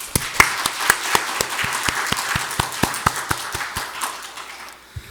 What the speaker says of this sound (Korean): 우리 박수로 영광 돌리시기 원합니다